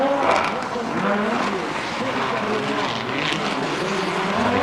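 An Audi Quattro S1 rally car at the 1988 Race of Champions comes into a hairpin, its engine a steady loud roar throughout, with commentary talking over it.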